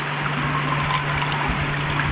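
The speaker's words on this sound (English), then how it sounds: "So I've just got some fresh water from this stream" Fresh water trickling from a mountain stream along a hiking trail, a steady close gurgle and splash with a constant hum underneath, no voices.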